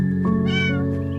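A pet cat meows once, close and clear, a drawn-out rising and falling cry over a steady background hum in a kitchen or garden setting.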